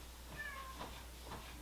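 A cat meows outside an office door, a couple of faint, short cries heard at a distance in a quiet room with a low background hum.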